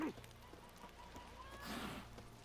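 Horse in The Witcher 3, quiet hoof clip-clops and a brief whinny, mixed low under game sounds and a talking voice.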